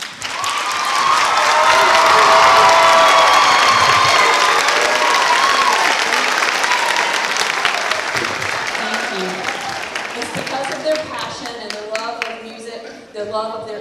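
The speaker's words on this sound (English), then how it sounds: "I would like to start with applauding them." An audience at an all-county chorus concert applauds the music teachers as they stand. The loud, full clapping is mixed with cheers and whoops, peaks early, then gradually thins out toward the end.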